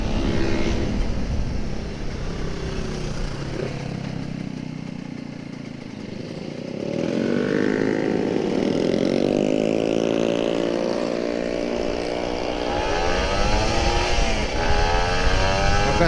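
A Kawasaki Ninja RR 150 engine on a morning ride revs up steadily, its pitch climbing as it accelerates, loud and close with wind rush and no talk.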